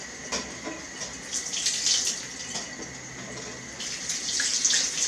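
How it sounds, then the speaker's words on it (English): Running tap water splashes steadily into a sink while chicken and duck eggs are washed beneath it, close and continuous, swelling and easing with the handling and with no talk. "to do once you get your chicken eggs or your duck eggs inside is you need to wash them all off"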